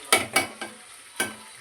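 Chicken frying uncovered in an open pan. Four quick scraping strokes from stirring land over a quiet sizzle, the first two close together, then two more spaced out.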